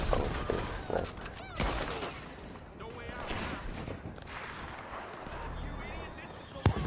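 Shots ring out in the video game Red Dead Redemption 2, several scattered reports mixed into a busy, noisy game scene, with people talking over the action.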